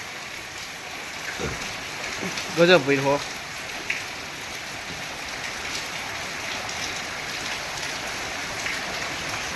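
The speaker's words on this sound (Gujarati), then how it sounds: "અહીંયા આવીને વરસાદ તમે જોઈ શકો હો" Steady rain patters over farm fields in a monsoon downpour, a constant even hiss, with a man's brief exclamation rising over it early on.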